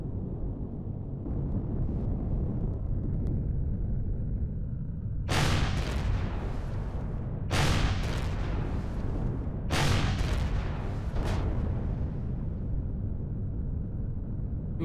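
Three heavy, booming bursts of gunfire from the sci-fi survival game Empyrion Galactic Survival, evenly spaced over a constant low rumble of ambient game noise.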